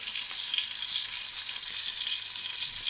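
Pork, sausage and bacon sizzling in a pan for traditional podvarak, a dense, steady hiss of hot fat crackling close up and evenly throughout, with no voices.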